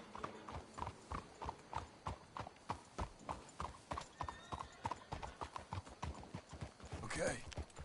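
Horses' hooves clip-clop in a steady trotting rhythm on a dirt road in Red Dead Redemption II, close and distinct, with a short whinny near the end.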